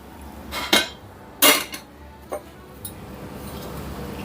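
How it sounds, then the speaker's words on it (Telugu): A new two-litre Prestige pressure cooker is handled in a home kitchen, giving a few sharp metallic clanks and clinks spaced apart, with fainter knocks between them and no talk. "ఇది ప్రెస్టేజ్ టూ లీటర్స్ కుక్కర్ అండి కొత్తగా కొన్నాను"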